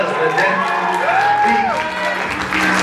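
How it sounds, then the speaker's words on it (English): Crowd clapping and cheering for poets at a youth showcase in Pittsburg, a busy mix of hands and whoops under an amplified host voice and music tones, loud and continuous. "Everybody clap it up."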